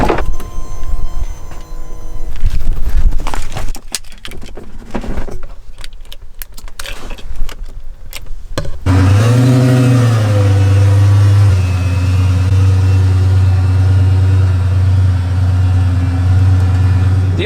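Keys jangle and rattle close by before a Lamborghini engine fires and settles into a loud, steady mid-pitched drone with a brief rise in revs, heard from inside the car.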